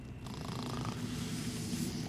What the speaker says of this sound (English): Who's snoring?